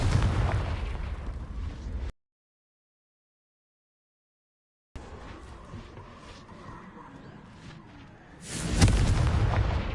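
Fiery Confringo spell blast in a video game: a booming explosive burst near the end, with rumbling, crackling action sounds earlier and a brief stretch of silence in between.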